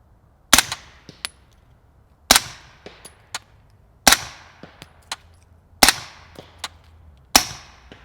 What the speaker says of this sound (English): We put 5 rounds down at the berm at 100 yards.